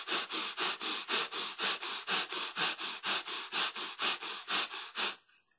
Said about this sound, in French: on va pouvoir accélérer encore cette respiration et là aller encore plus vite